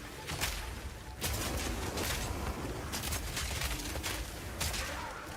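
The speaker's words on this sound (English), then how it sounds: "using it will summon a cannon which loads and then fires the grenade you choose" Repeated cannon shots from a summoned Mortar Cannon loading and firing grenades in Path of Exile 2, a string of sharp bursts and whooshes over steady game noise, fairly loud and continuous.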